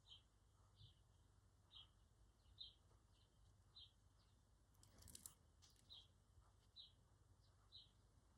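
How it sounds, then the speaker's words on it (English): Young sparrows chirping outside a window as their parents feed them, a run of short, faint, evenly spaced calls over a low background hum, with a brief rustle partway through. "There's young sparrows outside my window being fed by their parents."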